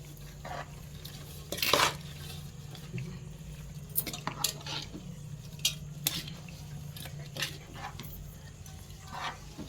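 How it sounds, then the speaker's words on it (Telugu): Avakaya mango pickle being stirred and mixed with oil by hand in a large vessel, with soft wet squelching and scraping strokes that come in uneven bursts, close up, alongside faint background hum and no speech. "ఇప్పుడు ఆయిల్ పోసి కలుపుతున్నా"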